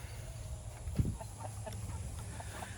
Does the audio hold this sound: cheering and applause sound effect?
no